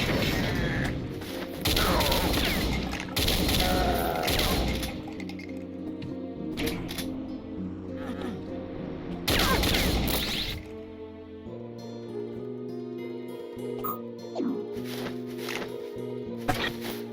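Rapid enemy fire and crashing impacts in the Doom video game, a dense, loud barrage of blasts and smashing hits running continuously with a busy game soundtrack underneath.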